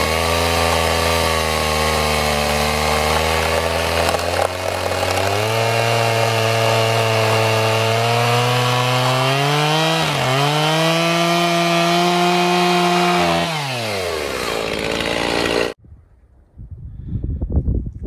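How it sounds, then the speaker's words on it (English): A chainsaw cuts through lumber beams to trim them flush at a marked length during cabin construction: a loud, sustained engine whine that dips in pitch as the chain bites under load, then cuts off abruptly near the end. "and then use the chainsaw to cut them all flush."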